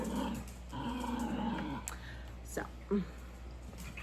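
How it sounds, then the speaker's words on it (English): Pet dogs growling low and whimpering indoors in a crafting room, short rumbling growls and soft whines close by, mixed with a quiet voice speaking briefly. "Don't mind my dogs, they came up here."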